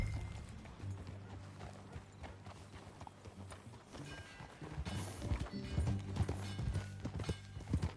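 Horse hooves clip-clop in a steady galloping rhythm as a rider travels in Red Dead Redemption 2, fairly quiet and close, with occasional snorts.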